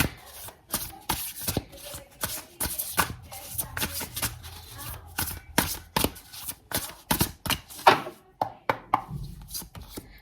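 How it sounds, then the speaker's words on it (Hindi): Tarot cards are shuffled and drawn during a reading, with crisp, close riffling and slapping bursts that come in an irregular rhythm with short pauses between them. No talk is heard. "तो यहाँ हम 4 कार्ड निकालेंगे"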